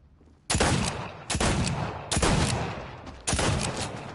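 Four loud, sharp bursts of gunfire in Fortnite, each a quick cluster of shots with a decaying tail, spaced evenly and heard alone without talk.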